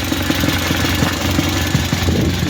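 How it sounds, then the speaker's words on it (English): A warmed-up car engine fitted with a Weber carburettor idles close by with a persistent misfire, giving a loud, uneven, knocking pulse over a low rumble. "we got her started and warmed up. She's running, but she still has that damn misfire in it"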